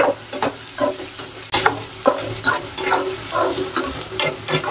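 Cut bottle gourd pieces hit a hot pan for a gourd buttermilk curry, giving a steady close sizzle with repeated sharp stirring clicks and scrapes throughout.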